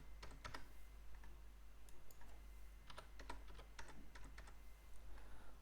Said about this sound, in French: on va taper un mot de passe à la ch'touille